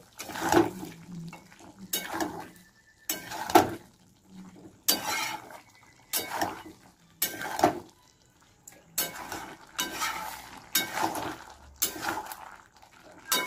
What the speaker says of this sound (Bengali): চিংড়ি মাছ ঢেকে ঢেকে কষাবো।